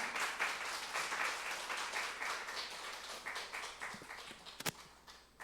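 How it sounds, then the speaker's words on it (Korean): A church congregation at a Sunday worship service applauds to welcome a pastor, a dense burst of many hands clapping that gradually thins and fades, ending in a few scattered claps and a sharp knock. "우리 환영의 마음을 담아 우리 박수로 환영하겠습니다"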